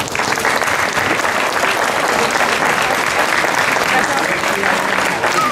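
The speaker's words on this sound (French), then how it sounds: "je pense qu'il mérite tous vos applaudissements" Dense, sustained audience applause at a gastronomy fair in Le Mée-sur-Seine, a loud, even wash of many hands clapping steadily without pause, with crowd murmur mixed in.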